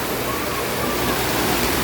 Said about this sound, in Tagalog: Grabe ang ulan dito sa Binyang Laguna.